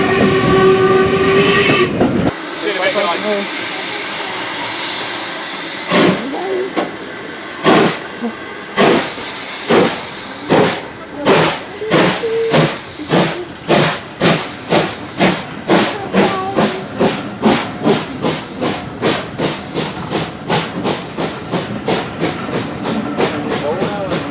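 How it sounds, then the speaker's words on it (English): A guest steam locomotive from the Mid-Hampshire Railway at an autumn steam gala on the Severn Valley Railway, opening with a loud hiss of steam, then a steady chuff of exhaust beats that quicken and fade slightly as it pulls away. "this is actually a guest locomotive from the Mid-Hampshire Railway"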